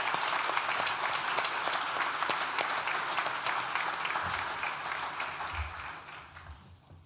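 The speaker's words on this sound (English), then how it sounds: "Please join me in thanking them with a well-deserved round of applause." A large graduation ceremony audience claps for university staff and tutors, a full, dense wash of applause that holds steady and then gradually thins and fades toward the end.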